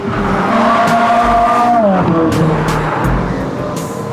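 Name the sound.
car being driven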